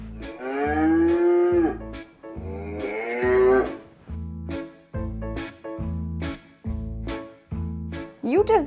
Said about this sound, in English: Here's a cattle.